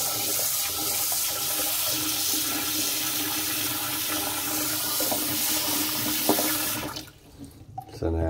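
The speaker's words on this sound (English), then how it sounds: "fill the pan with cold water to slow and then stop the cooking process" Cold water runs steadily from a tap into a pan of boiled eggs for several seconds, a broad rushing hiss that cuts off near the end.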